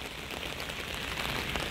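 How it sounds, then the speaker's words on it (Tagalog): Steady rain pattering across a large outdoor parking lot beside a church in South Korea, a continuous close hiss of drops on pavement and cars with no voices. "Nakakatuwa pag umuulan, no?"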